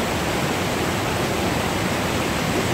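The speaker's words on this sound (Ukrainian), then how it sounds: "А отак от згори спускається річечка і перетворюється на водоспад." Broadband, unbroken roar of a small river pouring over a waterfall, loud and close, constant throughout with nothing else audible.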